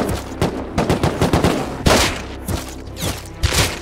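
Gunfire in the survival game Rust, a loud, dense fusillade of rapid overlapping shots with heavier booming impacts mixed in, continuous and close.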